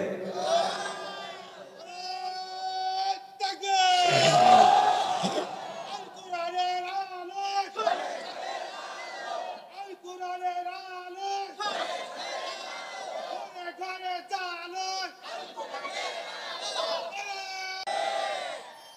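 A large crowd shouts the takbir in loud, repeated chanted waves, with a leading voice calling and the mass of voices answering. The roar swells near the start and continues in bursts throughout.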